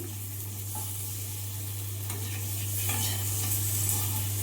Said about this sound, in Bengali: এবার গাইস কড়াতে আলু চলে গেল, আলুটাকে এবার নাড়ানাড়ি চলবে